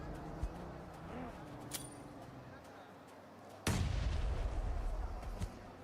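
Grenade explosions in the video game PUBG, heard over a dull battlefield ambience with a few scattered shots, then one heavy blast that leaves a sustained rumbling roar.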